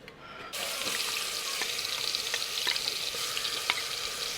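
A continuous hiss of onion paste frying in oil, close and steady, after a brief quiet start, with faint clicks of stirring scattered through.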